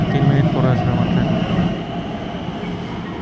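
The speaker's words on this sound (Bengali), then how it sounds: "ট্রেন ছেড়ে দিল মাত্র, তো আমি পরের ট্রেনের জন্য অপেক্ষা করছি।" An Elizabeth Line train pulls out of a London station with a rumbling, rolling roar that eases after about two seconds into a lower steady hum, with faint platform voices underneath.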